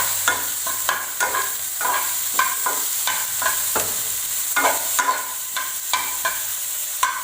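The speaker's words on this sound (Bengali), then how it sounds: "ওই টমেটোগুলোকে অ্যাড করে দেবো।" Two chopped medium tomatoes frying with lightly fried onion in a pan, sizzling steadily while a utensil stirs and scrapes in repeated sharp strokes, close and moderately loud with no talk.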